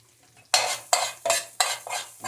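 Butter sautés in a pan for alfredo sauce as a utensil stirs, giving four or five bursts of sizzling, scraping strokes, loud and close with no voices.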